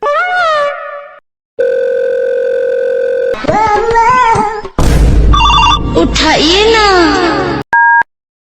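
Phone call ringing: a series of electronic ringback and ringtone tones, loud and close, broken by short gaps and shifting melodic beeps, with a voice briefly mixed in.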